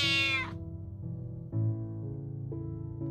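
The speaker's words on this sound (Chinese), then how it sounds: "这个橘猫乖的时候老粘人了，追着你要摸摸" An orange cat gives a drawn-out meow that starts high and bright then drops into lower, sustained tonal cries, close and clear with no talking.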